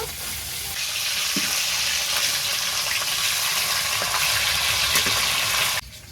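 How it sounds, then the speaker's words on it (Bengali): Hilsa fish sizzles steadily in hot oil in a home kitchen, a dense continuous frying hiss close by that runs unbroken for several seconds before cutting off abruptly near the end. "মাছটা ভাজা হয়ে গেছে এবার আমি তুলে নিচ্ছি"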